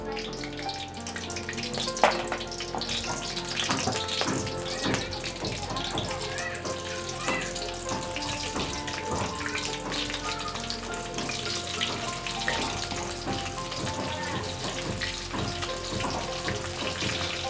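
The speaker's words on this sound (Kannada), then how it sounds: "ಒಂದು ಹತ್ತರಿಂದ ಹದಿನೈದು ಸೆಕೆಂಡು ಮೆಣಸಿನ್ಕಾಯಿ ಫ್ರೈ ಆಗಿಬಿಡುತ್ತೆ" Slit green chillies frying in hot oil for street-style egg rice, a dense, continuous crackling sizzle with faint clinks underneath.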